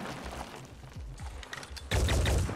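Gunfire rings out in the Phoenix Point video game, scattered shots and thumps building to a loud, close burst of rapid fire near the end.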